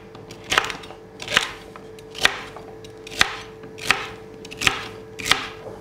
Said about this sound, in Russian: И также режем большими кусочками.